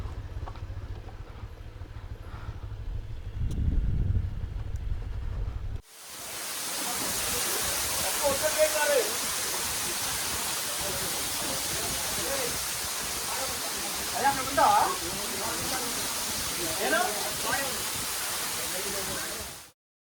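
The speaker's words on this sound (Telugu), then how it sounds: "So that is water fall. చాలా చిన్నది, ప్రస్తుతానికి వాటర్ తక్కువే ఉన్నాయి." A small waterfall carrying little water at the moment, heard as a steady broadband rush of falling water that starts abruptly after a few seconds of quieter low rumble and continues evenly, close and fairly loud, with faint brief sounds over it.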